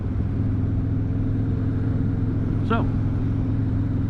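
Motorcycle riding on a road on a mild 67-degree day, with a steady, loud engine and wind rumble throughout and a man briefly starting to speak over it.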